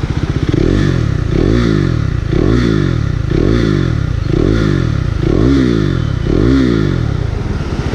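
A 2017 KTM Duke 390 single-cylinder motorcycle fitted with an aftermarket slip-on exhaust, revved repeatedly in a steady rhythm of about seven rising-and-falling blips, loud and close with a throaty burbling crackle between revs.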